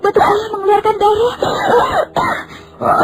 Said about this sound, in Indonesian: Batuk-batuk ayah mengeluarkan darah.